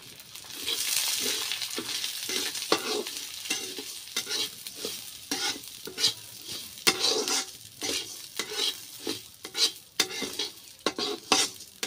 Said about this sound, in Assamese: এতিয়া মই ইয়াতে মাছখিনি দি দিছোঁ।